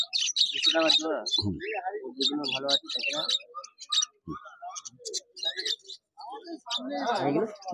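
Caged birds such as cockatiels, finches and budgerigars chirp and tweet at the Dakshineswar bird market, with bright calls scattered through the scene while a vendor talks loudly over them.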